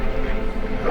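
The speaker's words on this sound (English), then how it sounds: "They're evil dogs." Evil dogs in the video game Witcher I, a brief burst of snarling, whimpering barks heard close under talk.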